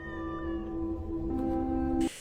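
A cat meows steadily from inside a man's backpack, a sustained, clear, close call lasting about two seconds before cutting off abruptly.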